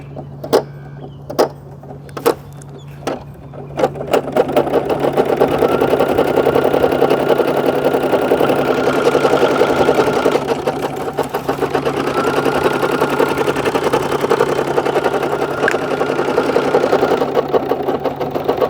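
Portable embroidery machine stitching a design outdoors by a waterfront, a steady mechanical whir that holds loud and even after a few sharp clicks at the start, with no talk.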